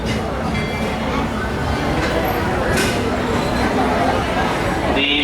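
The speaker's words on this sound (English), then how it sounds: "As we're pulling into the station, folks, we do ask you to remain seated until the train comes to a complete stop" Walt Disney World Railroad train rolling into a Main Street, USA station, a steady broadband rumble of wheels and rail noise holding even loudness throughout, with a brief brighter hiss near the end.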